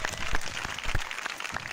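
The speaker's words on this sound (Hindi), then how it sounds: "अपने लिए ताली बजाएं, अपने लिए बजाओ बजाओ बजाओ बजाओ।" Audience at a one-day church revival meeting applauding, a steady wash of clapping with sharper claps standing out, sustained through the moment without voices.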